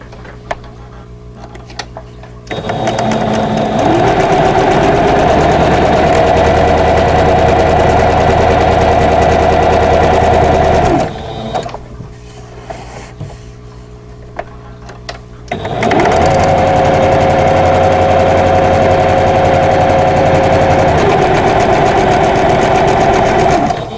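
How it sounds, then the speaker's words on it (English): A sewing machine stitches a quilt block seam in two long steady runs, a loud close mechanical whir with a fine rapid tick, separated by a short pause of quieter handling. "I'm going to sew a 1/4 inch away from both sides of that drawn line."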